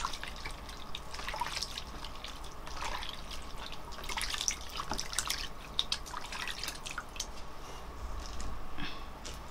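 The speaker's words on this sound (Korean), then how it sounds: "이렇게 한 다음에 물로 헹궈 볼게요" Hands are rinsed under running tap water after being scrubbed with a homemade rice bran powder face cleanser, giving close, steady splashing with scattered drips and trickles and no talking.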